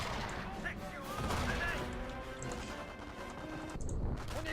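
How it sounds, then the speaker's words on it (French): Small-arms gunfire in the video game Company of Heroes crackles as a dense, continuous battle din with scattered pops and bangs, fairly faint, with voices speaking over it. "On essuie des tirs d'armes légères."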